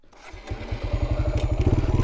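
A motorcycle engine revs up and settles into a rapid, throaty exhaust putter, loud and close, with an uneven pulsing rhythm like a small mower.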